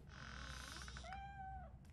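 A single drawn-out cat meow from the video game RoboCop: Rogue City, rising then bending downward, fairly close over a low background hum.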